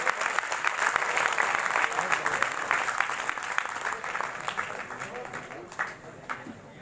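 Audience applauding a poet at a large Hindi poetry gathering in Lucknow, a steady broad wash of many hands clapping that holds throughout and eases slightly near the end, with some crowd noise mixed in.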